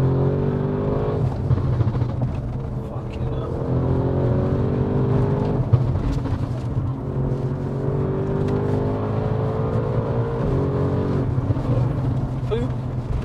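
An 830hp Audi RS6 C8 pulls hard in second gear, its engine note climbing in rising sweeps heard from inside the car, with voices talking over the drone.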